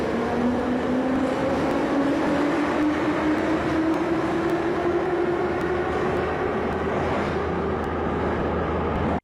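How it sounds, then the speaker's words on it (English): A Tbilisi Metro train with rheostat contactor drive runs loud and steady, a rising motor whine climbing in pitch over constant rumbling wheel and track noise. "These trains use the rheostat contactor driving system, which makes them really bumpy when accelerating"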